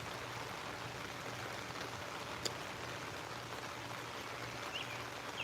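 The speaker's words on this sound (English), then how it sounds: "I feel like it's been raining for months." Steady rain falls around an outdoor swimming pool, a soft continuous hiss with faint scattered drips and a low background hum.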